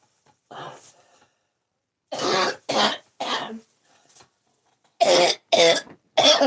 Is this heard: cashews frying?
no